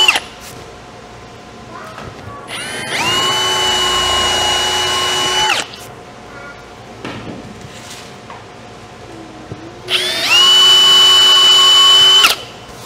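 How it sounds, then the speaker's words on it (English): Power drill boring pilot holes into wood with a bit smaller than the screws, two loud, steady whirring bursts of a few seconds each, close up, with quiet handling noise between them. "we're going to pre-drill our holes using a bit that's smaller than the screws"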